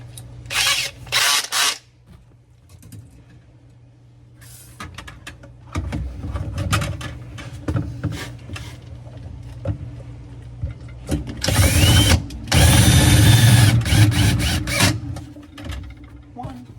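A power drill drives self-tapping screws into the metal body of a Whirlpool upright freezer, heard as several short whirring bursts separated by pauses, loudest and longest near the end.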